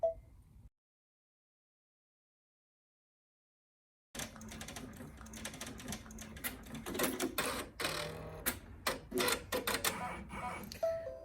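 A Brother PR1055x embroidery machine stitches appliqué placement with rapid mechanical tapping and clatter, close and busy, starting after a few seconds of silence.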